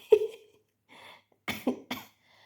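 A few separate coughs: one sharp cough, then a softer one, then a quick cluster of three throaty coughs close to the mic, with quiet gaps between.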